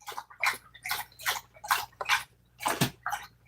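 A dog laps water in a quick, regular rhythm, each wet slurp close and distinct, with faint background hum between laps.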